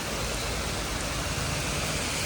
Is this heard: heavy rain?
yes